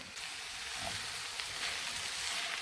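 Eggplant frying in a small amount of oil in a pan, a steady, even sizzle that holds throughout at moderate loudness with no speech.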